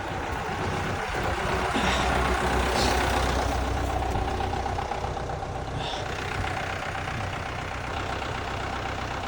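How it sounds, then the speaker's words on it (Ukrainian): A Mitsubishi truck loaded with packages of bees pulls away outdoors, its engine giving a steady, fairly loud rumble that holds throughout with no talking. "Наша машинка виїжджає."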